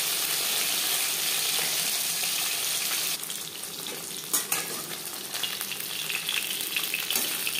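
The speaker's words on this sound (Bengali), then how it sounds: "একটা সাইড ভাজা হয়ে গেলে অপর সাইডটা সাবধানে উল্টে দেবো।" Fish fries in hot oil in a pan, a dense continuous close sizzle that thins slightly midway, with a few sharp clinks and scrapes as pieces are turned; no one speaks.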